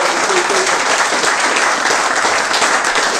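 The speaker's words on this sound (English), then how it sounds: "Everybody, big round of applause for Keith DELLA and" Dense, loud applause from a crowd at a Q&A event, steady clapping without a break from start to finish.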